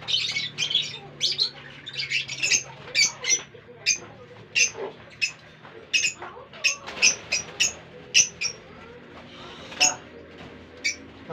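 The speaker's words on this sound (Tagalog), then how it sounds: "May nakabala akong ibon." A pet bird kept in a cage gives repeated sharp chirps and squawks in quick irregular bursts, close and clear, with a person's voice and light background sounds around them.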